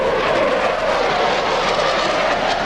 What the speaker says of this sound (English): Get a little strafing around here now from the FA-18 shooting this 20-millimeter gun.